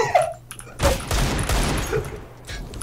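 Rapid bursts of gunfire in the CS:GO video game, a dense rattling fusillade of shots at moderate volume with excited players' voices mixed in.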